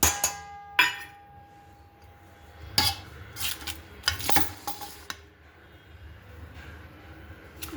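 Poha (flattened rice) goes into a pan with potatoes and is stirred with a metal spoon, making scattered clinks and scrapes against the pan. A faint sizzle runs under the stirring, with a few sharp knocks spread unevenly.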